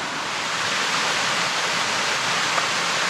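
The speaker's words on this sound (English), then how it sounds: "A pretty big waterfall." A big waterfall crashes into a pool beside slippery mossy rocks, a steady, loud, broadband roar that holds evenly throughout with no voices over it.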